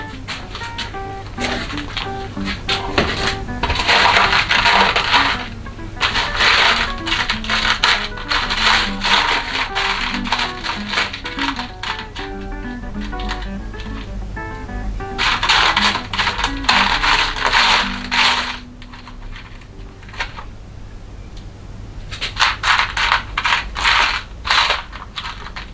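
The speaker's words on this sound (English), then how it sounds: "Need to find some tiny weenie screws for that." Small metal screws clatter and jingle as someone rummages through a container of spare hardware, with bursts of rattling, pauses, and renewed sifting throughout.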